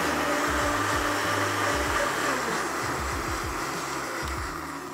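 Braun, Philips and Tefal hand blenders run at maximum speed, producing a loud, continuous motor whine and roar with rhythmic low thumps as the blades churn, heard close and fading slightly toward the end.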